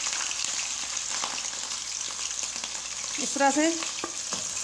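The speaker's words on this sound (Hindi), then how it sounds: "अब इसमें हम बीफ डालेंगे, गोश्त डालूंगी मैं।" Beef frying in cooking oil in a karahi, a steady broadband sizzle running throughout at moderate level, with a short spoken phrase from a woman near the end over the frying.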